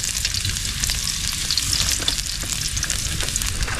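Garlic frying in a small amount of cooking oil in a pan, a steady close, loud sizzle that continues without a break and with no talking.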